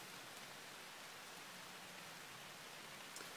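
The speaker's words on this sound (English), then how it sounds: "if I'm silent, you can hear it rain." Steady, dense rain pouring down, a continuous broadband hiss with no voices, fairly quiet and even throughout.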